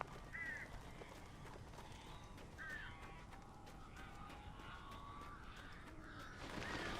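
Crows cawing in the Alan Wake video game, several harsh calls at intervals over a faint ambient background.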